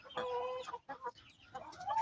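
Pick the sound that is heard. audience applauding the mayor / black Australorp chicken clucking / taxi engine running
black Australorp chicken clucking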